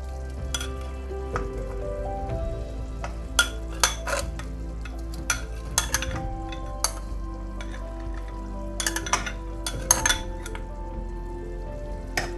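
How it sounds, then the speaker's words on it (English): Boiled potatoes and carrots going into a hot pan for chicken pie filling, with steady sizzling frying throughout and a spoon repeatedly clinking and scraping against the pan while stirring, close and clear with no talking. "so now we are gonna add our already boiled potato and our carrots"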